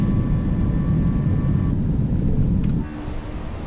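Airliner engines roaring during takeoff in Microsoft Flight Simulator 2024, a Delta flight out of San Francisco, with a steady low rumble that drops slightly in level near the end.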